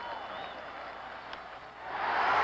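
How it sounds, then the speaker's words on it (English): Baltimore Orioles crowd at the 1971 World Series game 6 against the Pittsburgh Pirates, a broad stadium buzz and murmur that swells near the end, distant and continuous with no single voice standing out. "Crowd really buzzing right now"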